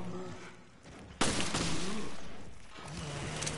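Gunshots fire in the video game Resident Evil: Revelations: a sharp, loud blast rings out, quickly followed by another, over a quiet background of game sounds.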